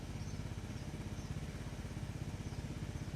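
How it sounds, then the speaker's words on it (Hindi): A motorcycle engine putters steadily at close range, a rapid, even chugging that holds for a few seconds with no voices over it. "बाइक पे कौन आया होगा?"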